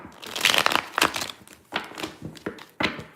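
Tarot cards are shuffled in quick, crisp bursts of rustling and flapping, close and fairly loud, coming in several uneven clusters with short gaps between them.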